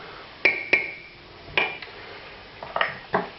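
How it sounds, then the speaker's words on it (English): A spoon knocks and scrapes against a metal cooking pot while pork knuckle ingredients are stirred, with sharp clanks spaced irregularly, close and fairly loud, no talking. "And we're going to stir this around a little bit, get it started cooking."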